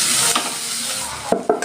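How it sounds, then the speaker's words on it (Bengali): Chopped onion hits hot oil in a pan for a small-fish curry, a loud close sizzle that holds steady, then two quick scraping stirs near the end. "আমি দিয়ে দিচ্ছি পেঁয়াজ কুচি।"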